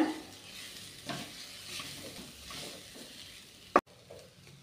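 Grated coconut being stirred into a taro root stir-fry in a pan, a soft continuous scraping and gentle sizzle with one sharp clack near the end.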